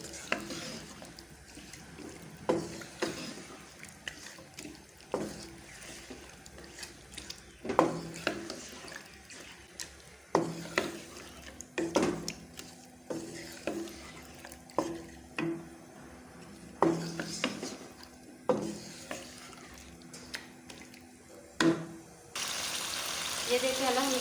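Chicken for korma fried in a pot and stirred, heard as a soft sizzle under repeated scraping and clattering strokes of a spoon against metal, spaced irregularly and close.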